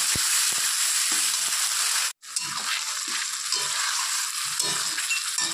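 Onion, ginger, green chili and cumin paste frying with potatoes in hot oil, a loud continuous sizzle with a sharp break as the paste goes in, then softer crackling and stirring scrapes.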